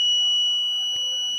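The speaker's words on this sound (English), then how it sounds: "If we place a finger that is not registered, the buzzer turns on and the LCD displays access denied." The buzzer on an Arduino fingerprint access project with an AS608 sensor sounds a steady, high electronic tone for an unregistered finger denied access, continuous and close with a brief click partway through.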